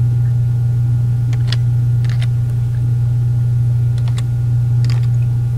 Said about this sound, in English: Type in your new email address.